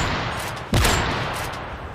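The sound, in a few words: suppressed gunfire in a video game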